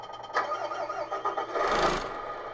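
A Tamiya 1/14 RC Volvo tow truck's engine sound unit cranks and starts, then settles into a rumbling idle, followed by a loud hiss like an air brake release.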